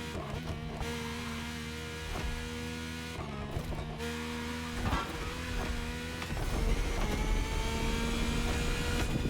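A Ferrari F80 hypercar racing in The Crew Motorfest video game, its engine revving and whining through gear changes with brief lifts, then building to a sustained loud acceleration near the end, with no voices.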